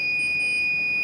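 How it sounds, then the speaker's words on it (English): A loud, steady high-pitched electronic buzzer tone from an acoustic railway track monitoring system, triggered by a crack in the track, sounds continuously without a break, close and alone. "the buzzer is activated."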